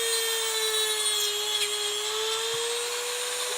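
A small power tool cutting while painting Blood Angels miniatures, a steady high-pitched whine held close and loud throughout, with no voice.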